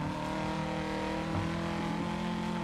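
Rally car engine drone with gravel and road noise from the driving game Dirt Rally 2.0, a steady, moderately quiet hum with no distinct revs.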